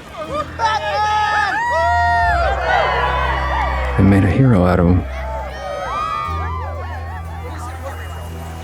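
A large crowd cheers, whoops and shouts continuously in a Batman audio drama street scene, loud and close, with a brief surge of rowdy yelling midway and someone speaking over the din.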